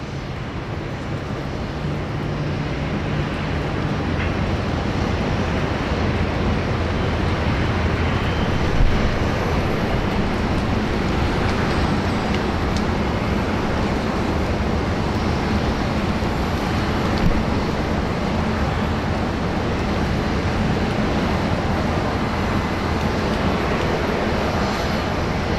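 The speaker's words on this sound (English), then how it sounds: "just down below we have China Eastern pushing back" Airport apron at Sydney Airport as a China Eastern airliner pushes back: a loud, steady jet engine roar and broadband rumble running unbroken throughout, with no voices.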